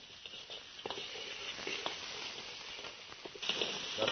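Chopped red onions and garlic sizzle in a hot pan with a dense, steady patter that turns louder and crackles harder near the end.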